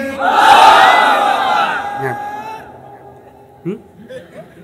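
Religious gathering crowd roaring a unified takbir chant in reply, a loud massed shout that swells at the start and then fades, followed by scattered murmurs and a few individual voices.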